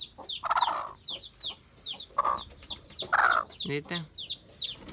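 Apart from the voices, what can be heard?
Aseel hen clucking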